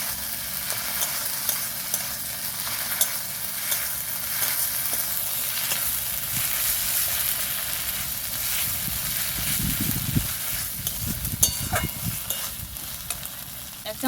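Cumin paste and onions sizzle steadily as they are sautéed in a pan for a Bengali rohu fish curry with potatoes, with a continuous frying hiss and occasional louder stirring scrapes near the end.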